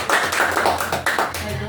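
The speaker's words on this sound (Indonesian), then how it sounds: "Kasih aplaus untuk Naurin" A children's class claps for a classmate, a short burst of scattered applause with an adult voice speaking over it.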